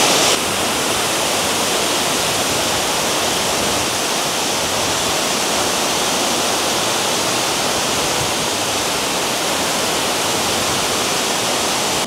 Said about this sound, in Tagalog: welcome to Tagbilat Falls or Malagandis